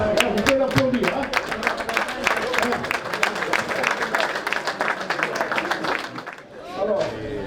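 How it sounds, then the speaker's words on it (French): Audience at a village wine and vine festival in Provence applauding, a steady crowd clapping for several seconds that tapers off as a voice speaks near the end. "Vous pouvez l'applaudir."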